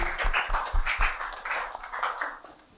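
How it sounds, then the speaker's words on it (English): Short burst of applause from a conference panel audience, a handful of distinct claps near at hand that thin out quickly. "Let's applaud him."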